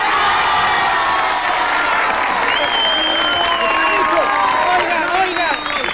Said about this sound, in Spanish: Un aplauso para Rafael.